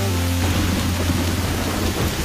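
Rain pours down in a thunderstorm in the animated children's show Bubble Guppies, a dense loud hiss with a deep low rumble of thunder rolling under it near the start before fading into steady rainfall.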